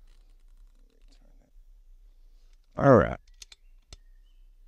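Turret clicks from a Meopta 4-20x50 rifle scope: a few crisp, close clicks spaced apart, following one short spoken word.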